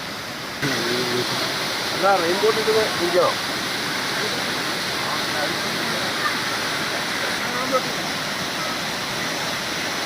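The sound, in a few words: waterfall at Thusharagiri entrance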